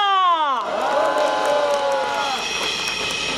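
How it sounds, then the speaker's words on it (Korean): At a prayer rally in Sejong, an audience bursts into applause mixed with cheers and whoops. A tonal sound slides downward just before the crowd noise rises, then the clapping stays steady and fairly loud to the end. "박수 부탁드립니다."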